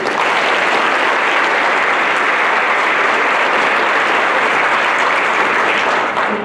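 Loud, sustained applause from a large crowd at a Veterans Day assembly, a thick continuous roar of clapping that holds steady throughout.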